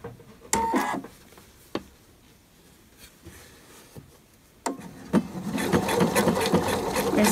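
A sewing machine stitches the crotch seam of a pair of trousers. A few sharp clicks and short bursts come first, then a steady, close whirring run fills the last couple of seconds, with no talking.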